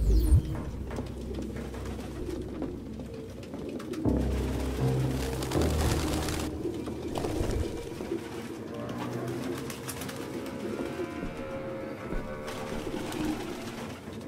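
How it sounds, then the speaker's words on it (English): Several pigeons coo in soft, repeated throaty calls in an abandoned apartment crowded with the birds in Detroit: Become Human, with low rumbling ambience and shuffling beneath the calls. "No human could live with all these fucking pigeons."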